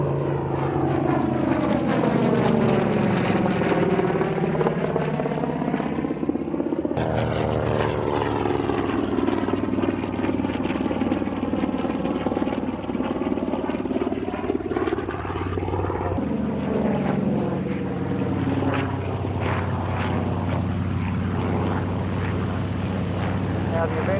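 A WWII Grumman Avenger with a twin-row 14-cylinder Wright Cyclone radial engine passing overhead at an air race, a loud sustained propeller drone that rises and falls in pitch as it flies past.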